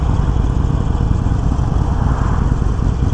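2021 Harley-Davidson Sportster 48 with Vance & Hines Short Shots exhaust, running with a loud, close, steady engine rumble throughout, no voices.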